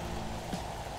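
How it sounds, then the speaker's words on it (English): Acid rain falling in a Roblox video game, a brief, faint, steady patter of rain noise with no voices. "Acid rain is my worst enemy."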